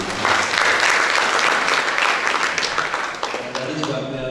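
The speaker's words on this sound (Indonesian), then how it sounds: "Tepuk tangan untuk Kang Abid." Audience applause at a book discussion event for Ayat Ayat Cinta 2, a dense steady clapping from a large crowd throughout, loud and sustained before tapering slightly at the end.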